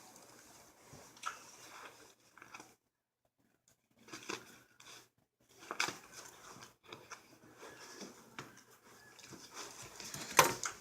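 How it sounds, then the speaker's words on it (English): Dull scissors snip cotton wick for an RDA vape atomizer in a series of faint, soft crunching cuts, irregular and spaced out, quiet and close with no talking. "Just gonna cut it down just a little bit."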